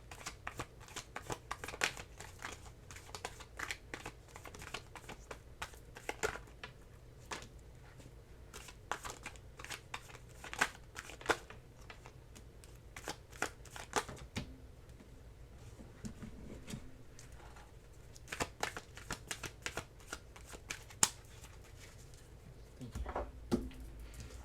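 Tarot cards are shuffled close up in a quiet room, with soft irregular riffles, slaps and papery flutters continuing throughout.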